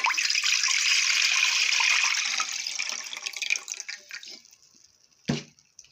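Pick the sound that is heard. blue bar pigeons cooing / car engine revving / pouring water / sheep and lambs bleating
pouring water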